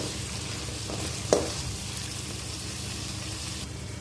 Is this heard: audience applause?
no